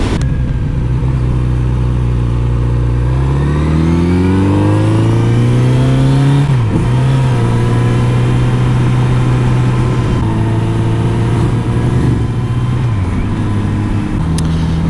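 A motorcycle engine revs repeatedly to blow out its carburetors, pitch climbing and falling through several loud, close throttle blips over a steady running drone, with no talking.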